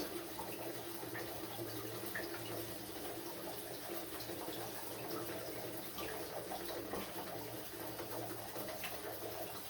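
Water runs steadily out of an electric water heater (boiler) after a nut is undone during cleaning and seal maintenance, a faint continuous hiss and trickle with birds cooing faintly in the background.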